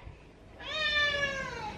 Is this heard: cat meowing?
yes